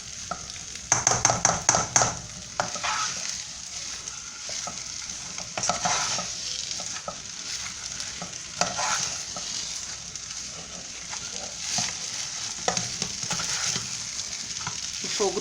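Steady scraping and stirring of churro dough in a pan with a soft sizzle underneath, rattly clacks at the start, continuous and close.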